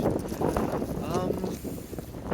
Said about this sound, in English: Let me just see if I get a big gust of wind right about now